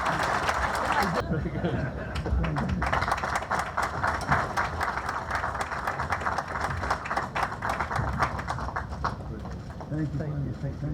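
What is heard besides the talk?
round of applause for Rami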